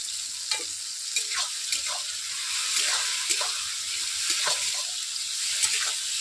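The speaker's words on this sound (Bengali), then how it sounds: "বন্ধুরা আমি তেলের মধ্যে টমেটোকে 3 মিনিট ভেজে নিয়েছি।" Salted tomatoes frying in oil for a tomato pickle, a moderate crackling sizzle broken by regular scraping strokes of a spatula stirring the pan.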